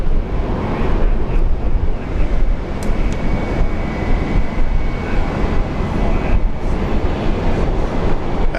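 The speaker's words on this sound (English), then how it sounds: "wind is picking up too" Strong wind roaring across an open airport, a loud, steady broadband rush with faint distant engine drone and a thin whine underneath, no talking.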